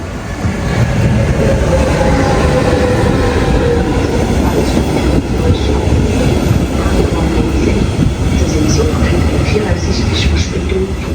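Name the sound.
train arriving at station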